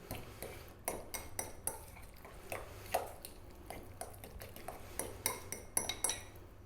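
Spiced yogurt raita with salt, chili, cumin powder and fresh cilantro is stirred in a bowl, a quick series of light clinks and taps of a spoon against the dish, fairly quiet and close with no talking.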